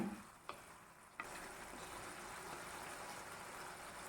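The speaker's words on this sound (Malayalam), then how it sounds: "ഇനി ഇതിലേക്ക് നേരത്തെ വേവിച്ച് വെച്ച ഉരുളക്കിഴങ്ങ് കഷ്ണങ്ങളാക്കിയത് കൂടി ഇതിലേക്ക് ഇട്ട് കൊടുക്കാം. ഇനി ഇതൊന്ന് നന്നായി യോജിപ്പിച്ചെടുക്കണം." Boiled potato pieces are stirred into a cabbage curry in a pan, a continuous soft frying sizzle with a couple of quick utensil knocks early on, close and fairly quiet.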